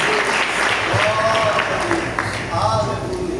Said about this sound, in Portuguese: coloca as palmas bem alegre para Jesus. Mais forte as palmas